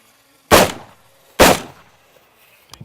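A rifle fitted with a weapon light fires two loud sharp shots about a second apart, each with a short ringing decay, followed by faint clicks.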